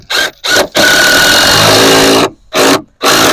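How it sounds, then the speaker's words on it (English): Power drill boring a pilot hole through a wooden 4x4, three short bursts and then a long sustained run of grinding, close and loud, followed by two more brief pulses. "So you just want to make a little pilot hole. Go all the way through, and that will make a little hole in that 4x4"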